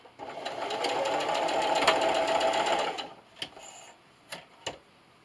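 A sewing machine backstitches through felt, running in a steady close whir for about three seconds before stopping, then a few sharp clicks follow.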